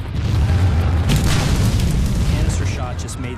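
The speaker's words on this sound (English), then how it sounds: "The casing explodes, spraying the iron balls into advancing troops at hundreds of yards per second." A cannon's canister shot casing bursts with a deep, rolling boom that rumbles on for several seconds, loud and heavy, as in a Civil War battle reenactment.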